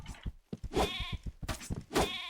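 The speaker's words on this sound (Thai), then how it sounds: "เวลาตีมีเสียงแกะด้วยนะครับ" Sheep bleats triggered by knife hits in an online shooting game using the Hwando Hwarang knife, two wavering bleats about a second apart over busy game sounds.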